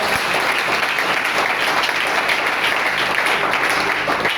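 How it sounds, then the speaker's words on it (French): An audience in a church setting applauding for a child's father, with a loud, dense, steady wash of clapping that keeps going without a break. "est-ce qu'on peut acclamer pour le papa de Junior?"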